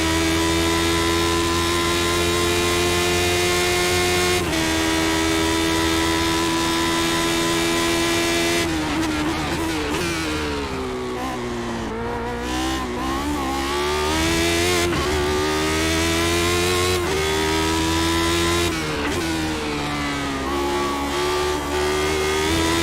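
A race car in the iRacing simulator at Monza accelerates hard out of a corner, its engine revving loudly through rising pitches with gear changes and a brief lift before pulling again, close and continuous with no talk.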